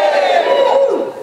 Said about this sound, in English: I want you to practice is shouting a huge cheer